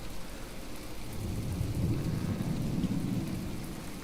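Steady heavy rain with low rumbling thunder in the naval combat game From The Depths, a dense continuous wash that swells slightly midway and stays loud throughout, with no voices.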